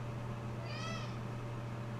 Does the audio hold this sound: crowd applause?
no